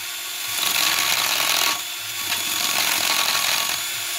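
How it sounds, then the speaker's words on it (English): A power drill whirs steadily as it bores into a scooter engine's metal cylinder up close, briefly easing off partway through before resuming its continuous cutting drone. "I'm just kind of setting the drill on it and letting it do the cutting"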